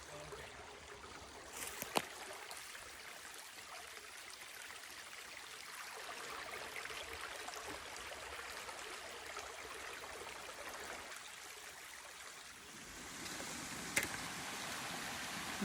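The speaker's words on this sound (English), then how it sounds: "Look at the pretty waterfall." A waterfall and stream on an Arkansas hiking trail make a steady, soft broadband rush of flowing water that runs on throughout, with a couple of faint knocks.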